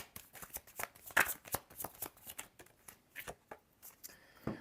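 Tarot cards being shuffled by hand, a quick series of soft riffling flicks and slaps, close and fairly quiet, with no talking.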